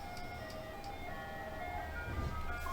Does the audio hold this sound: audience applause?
no